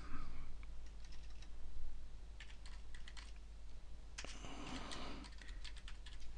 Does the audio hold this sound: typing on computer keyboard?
yes